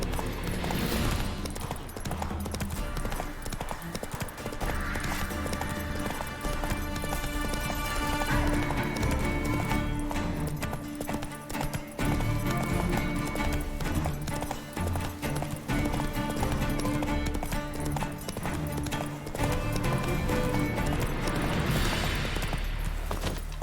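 Horse hooves clip-clop at a gallop in The Witcher 3, a steady rhythmic pounding heard under a full, continuous bed of game music for the whole stretch.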